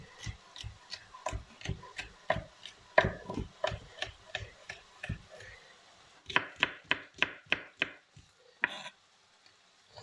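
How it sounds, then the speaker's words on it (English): A knife chops vegetables into julienne strips on a board, a fast, regular run of crisp taps close by that pauses briefly, then resumes in a quicker burst before trailing off. "these are going to get cut julienne"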